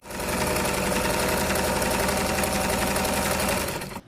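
Sewing machine stitching a blouse: a continuous, close, steady whirr with a rapid rhythmic chatter running for about four seconds before stopping abruptly.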